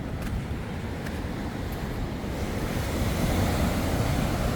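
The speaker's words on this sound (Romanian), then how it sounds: "e destul de agitată marea. Valurile sunt destul de mari." Rough sea surf on a Bali beach rolls and breaks in a continuous heavy roar, mixed with wind buffeting the microphone and growing slightly louder toward the end.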